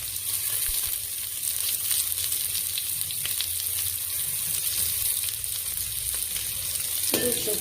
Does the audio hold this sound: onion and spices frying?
yes